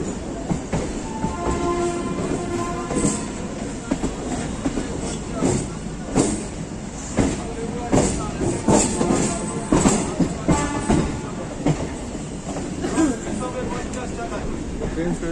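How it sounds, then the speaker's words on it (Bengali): A Howrah–Katwa local train pulls away from the platform, its wagons rumbling and rattling steadily with clacking wheel beats and occasional squeals, while people talk and move around close by. "ট্রেন ছেড়ে দিয়েছে"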